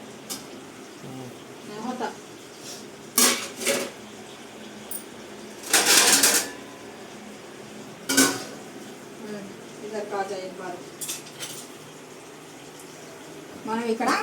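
A metal plate set down over a cooking pot holding stuffed eggplant gives several sharp clinks and clatters at intervals, with a louder scrape in the middle, mixed with a person talking close by.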